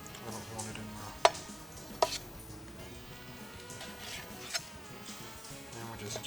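A knife strikes a plastic cutting board while cubing raw chicken, a few sharp, separate knocks spaced irregularly against faint background noise.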